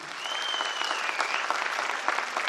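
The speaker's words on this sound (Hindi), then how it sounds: "एक जोरदार तालियां दोस्तों" Loud, dense applause from a large audience at a corporate company event, steady clapping filling the whole stretch, with a faint tonal whistle or feedback line gliding through the first half.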